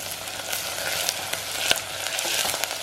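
Green chillies sizzle in hot oil with onion and ginger-garlic paste for a masoor dal pulav, a steady close crackling hiss with a few sharper pops and no voices.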